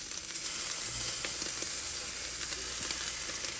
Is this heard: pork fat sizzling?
yes